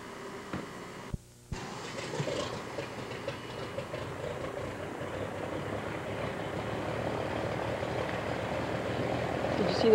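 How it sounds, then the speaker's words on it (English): A floatplane's propeller starts up at a lake, its drone building gradually from a distance after a few knocks and clicks early on. "Did you see the prop start up, Brooke?"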